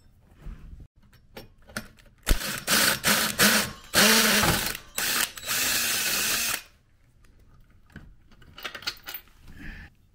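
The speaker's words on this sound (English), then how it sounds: "So I'm going to drill this hole out real quick" Bursts of a power drill whirring through a metal bracket for a Jeep TJ seat install, loud and close, with short grinding runs separated by clicks and handling noises.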